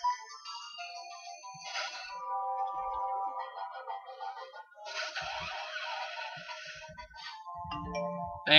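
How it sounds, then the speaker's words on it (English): A mobile phone ringtone plays an electronic melody in repeated bursts of bright tones with short pauses, fairly close and alone without talk. "And that was my phone going off."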